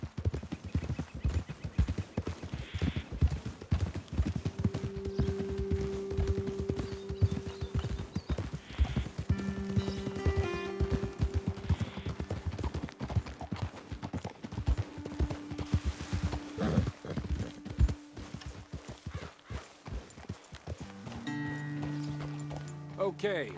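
Steady clip-clop of horse hooves while riding in Red Dead Redemption 2, rhythmic and close, with a horse whinnying partway through, game music tones and people talking over the riding.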